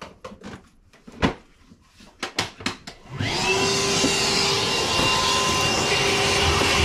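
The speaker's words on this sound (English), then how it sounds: "Did you bring the vacuum?" A vacuum cleaner starts up beside a York furnace with a bad heat exchanger, a few knocks and clatters coming first, then a loud, steady whine with a high tonal hum that holds on to the end.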